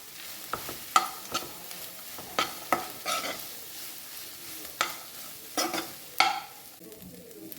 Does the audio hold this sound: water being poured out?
no